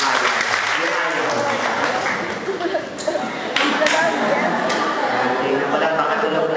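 Congregation applauding during a Filipino sermon, a dense steady patter of many hands clapping at moderate loudness throughout, with a brief lull mid-way and a preacher's voice faintly underneath.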